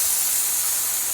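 Okra hits a pan with red chili powder and spices for a Bengali vegetarian bhindi posto dish, giving off a steady, loud, hissing sizzle with no breaks.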